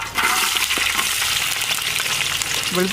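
Garlic fries in coconut oil inside a hot uruli pot, a loud, dense crackling sizzle that fills the whole stretch, close and steady.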